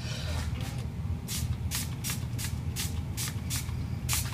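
Handheld spray bottle squirting water in a quick series of short, crisp spritzes, about eight in a row, over a steady low background hum.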